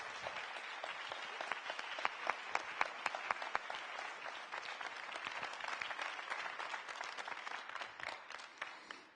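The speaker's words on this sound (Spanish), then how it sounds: "También yo creo que se merecen un aplauso." An audience at a panel discussion applauds steadily for several seconds, many hands clapping in a dense, even patter that stays moderately loud before tapering slightly at the end.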